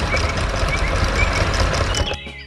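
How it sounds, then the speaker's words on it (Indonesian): A green truck working rich farm soil, its engine rumbling loud and close with an insistent electronic beeping on top, before the noise suddenly drops away near the end. "Truk hijau sedang bekerja keras."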